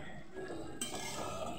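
A spoon stirs pumpkin curry in a pan, the utensil scraping and clinking softly against the metal over a steady low background hiss, with no talk.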